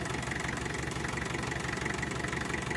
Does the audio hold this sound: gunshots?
no